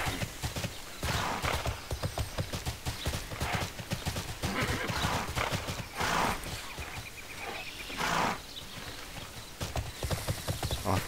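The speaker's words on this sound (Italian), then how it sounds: "Bella idea usare il cavallo." A horse in the video game TERA Rising trots along with brisk, continuous clip-clopping hoofbeats in a steady rhythm, close and fairly loud, with a brief whinny among them.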